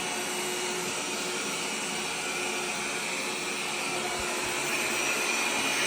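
A Roidmi EVA robot vacuum cleaning the floor, giving a steady broadband whoosh of suction that holds constant for several seconds, close and fairly loud, with no talking.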